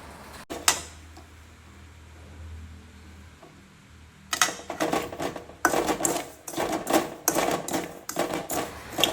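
Semolina (rava) is roasted in a pan for uppittu: after a quiet start, a spoon scrapes and clatters against the pan in quick, irregular strokes, close and fairly loud.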